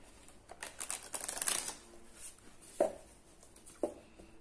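Tarot cards being shuffled by hand: a quiet run of crisp riffling flicks that swells for about a second, then fades, followed by two sharper taps as the deck is squared, close and soft with no talk.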